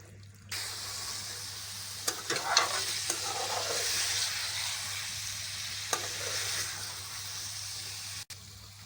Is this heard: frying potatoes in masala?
yes